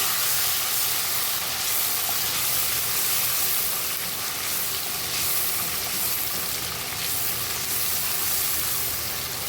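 Chicken and prawns fry in hot oil with garlic, producing a steady, dense sizzle and hiss that stays loud and unbroken throughout, close to the pan with no talking.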